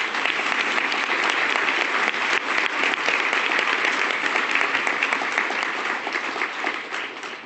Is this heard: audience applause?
yes